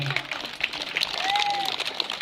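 Audience applause at a government primary school's annual function welcoming schoolchildren, a continuous wash of clapping at moderate volume with a faint whistle rising through it.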